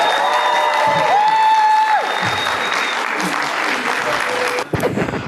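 Loud, sustained applause from a convention panel audience at Terrificon 2024, with scattered cheers and whoops rising over the clapping and a few tonal whistles early on, steady throughout before a brief dip near the end.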